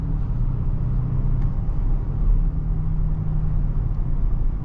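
A 2023 BMW 760i cruises with a steady low road and engine rumble heard from inside the cabin, easing slightly as the car slows under braking.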